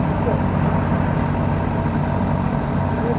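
A vehicle engine that has been making a strange noise runs steadily nearby, a loud, dense low rumble without pauses and without speech.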